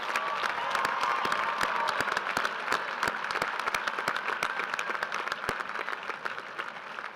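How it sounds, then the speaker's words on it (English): A large crowd claps for graduating academic leaders at a high school class of 2015 graduation ceremony, sharp individual claps standing out in sustained applause with a few scattered cheers, lasting several seconds. "Please join me in giving these academic leaders a round of applause"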